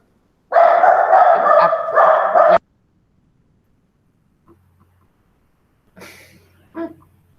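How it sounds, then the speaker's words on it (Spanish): A dog barks in a brief burst of loud, close barks lasting about two seconds, followed by silence and a few fainter yips or whimpers afterward. "perro"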